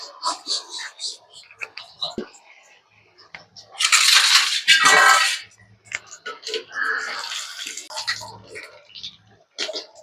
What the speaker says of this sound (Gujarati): તો આપણું તેલ આવી ગયું છે. તો આપણે એમાં હવે રોલ નાખી દઈશું.